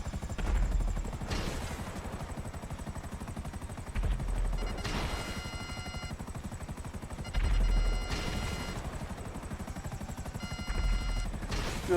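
Rapid gunfire from a video game, fired from a helicopter over trees and buildings, runs as continuous rattling bursts with heavier thumps at regular intervals under a steady engine drone.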